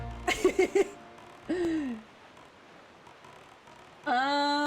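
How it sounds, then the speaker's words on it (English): A bird in The Wind Waker game gives bleating, goat-like calls, a few quick warbling notes, a falling cry, then a longer wavering bleat, clear and alone with no voices over them. "There's a bird."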